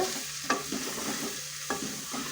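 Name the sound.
stirring chili powder into frying dal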